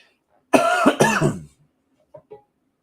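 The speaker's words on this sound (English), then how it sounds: "There's that cough coming back." Two harsh coughs in quick succession, close and loud, followed by quiet with a few faint small sounds.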